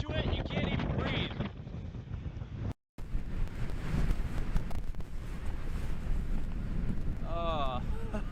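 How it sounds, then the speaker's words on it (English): Strong wind buffets the microphone on a boat out on Georgian Bay, a loud, continuous roaring rush with brief voices heard through it and one short dropout. "This wind is nuts."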